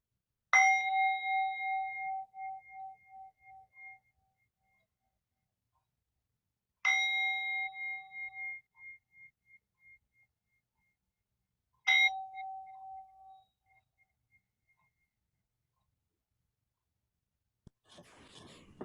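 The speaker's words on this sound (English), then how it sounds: "let's begin by ringing our bells" Bells are rung to open a church service at the Sonoran Desert Center: three clear, bright strikes about five seconds apart, each ringing out and fading in a quiet room, followed by a soft rustle.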